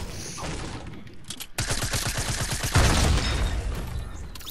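Gunfire in Fortnite Season 8 Playground: a near, loud stretch of rapid automatic shots follows a quieter opening, then continues as a dense, sustained barrage.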